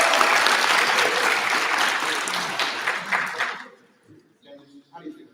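Applause from a crowd at an anime court panel during a pop culture expo, loud and sustained for several seconds before cutting off. Scattered voices follow, and someone speaks near the end.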